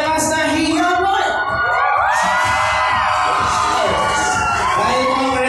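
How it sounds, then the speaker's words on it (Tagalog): A crowd at a debut celebration cheers, shouts and whoops loudly and continuously, with children's high yells rising over the steady roar. "paninigawan ang inyong malakas na hiyawan"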